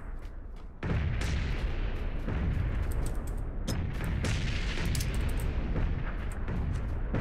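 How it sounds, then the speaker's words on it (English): A video game grenade blast erupts after a moment of quiet, followed by sustained loud rumbling and crackling debris sounds with scattered sharp pops, close and dense throughout. "I literally blew another one up in some dude's face"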